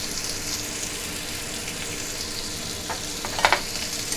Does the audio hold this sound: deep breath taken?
no